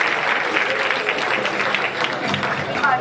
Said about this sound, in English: Let's have another round of applause for Sean.